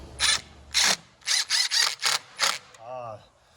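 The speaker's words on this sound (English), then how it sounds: "I'm gonna put a bigger screw in there for now to see if I can suck it in." A screw is driven into a casement sash hinge on a historic window, heard as a series of short, loud bursts of a power driver that stop and start in quick succession, followed by a brief ratcheting whir.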